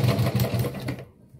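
A sewing machine stitches cloth, running in a fast, close, rhythmic whir for about a second before stopping abruptly.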